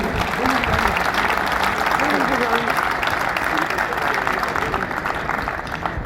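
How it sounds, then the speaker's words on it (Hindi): A crowd at a political rally applauds, sustained clapping that stays fairly loud throughout while voices talk and call out beneath it. "तो उनके लिए भरपूर तालियां होनी चाहिए।"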